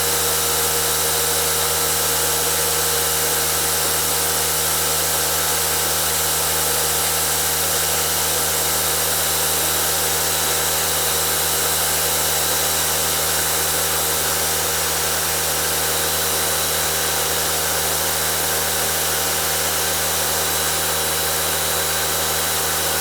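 SunJoe SPX3000-XT1 XTREAM electric pressure washer running in a constant, loud motor-and-pump drone with steady hum, unbroken for the whole stretch and no voices.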